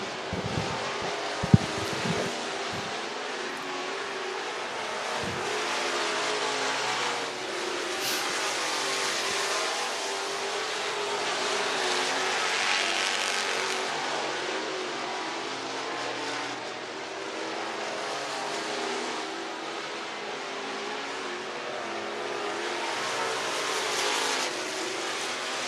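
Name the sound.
street stock race cars on racetrack during hot lap qualifying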